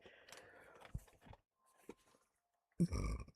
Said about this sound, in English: Excuse me. Burp.